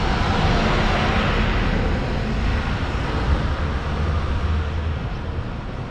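A 101 bus to Paralimni pulls in on a street in Protaras, Cyprus, its loud, steady engine rumble close by and filling the whole stretch without a break.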